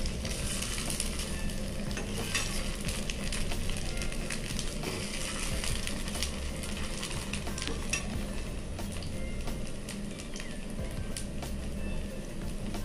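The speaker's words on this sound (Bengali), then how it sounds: "এই কাবাবগুলোকে আমরা শ্যালো ফ্রাই করছি" Poha kababs shallow frying in oil in a pan, a continuous close crackling sizzle with scattered stirring clicks, steady throughout and without voices.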